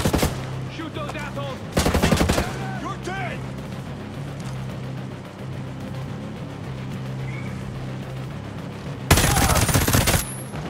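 Automatic gunfire in a Ghost Recon firefight, a few sharp loud bursts at the start and near the end with quieter shots and a steady engine-like drone between, while voices talk.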